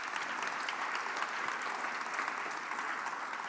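A conference audience at a health event applauds, an even, sustained patter of many hands at moderate volume with no pauses, no one speaking over it.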